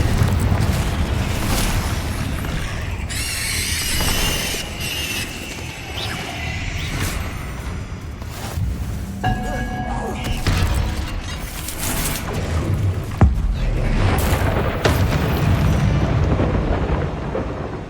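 Confringo and Bombarda spell blasts in Hogwarts Legacy, a string of loud booming explosions with whooshing casts and rumbling debris, repeated throughout at close range.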